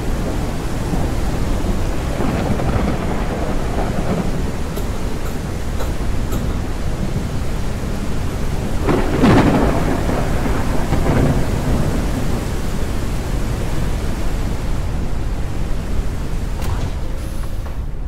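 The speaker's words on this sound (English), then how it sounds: "In here when that storm hit like that." Thunderstorm in the flying survival game Forever Skies, with a steady wash of heavy rain and rolling thunder that swells to a loud crack partway through, then rumbles on continuously with no voices.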